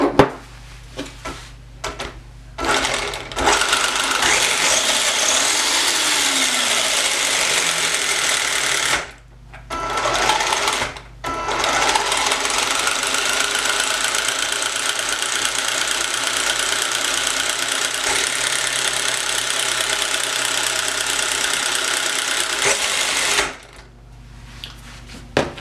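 Small electric motor of a Subotech BG1508 RC truck whirring steadily at close range, a high buzzing drone that runs almost continuously with a few brief pauses and restarts.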